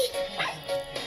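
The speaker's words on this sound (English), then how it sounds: "Let's call him Bubble Puppy" A cartoon puppy from the Bubble Guppies series gives short yipping barks, a couple of quick bright bursts over about a second, with a voice mixed in around them.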